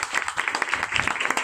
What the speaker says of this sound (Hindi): सब ताली बजाए